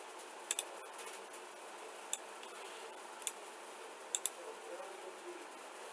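Computer mouse clicks on a quiet desk, sharp isolated taps at uneven intervals, a couple in quick pairs, faint and close against low background hiss.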